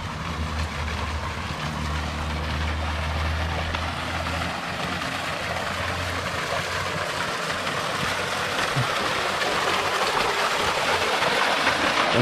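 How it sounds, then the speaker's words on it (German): A steady rushing of the Wiesent river at Wiesentfels, continuous and fairly loud, with a low rumble underneath and no voices. "Da ist der Bach. Der fließt hier durch"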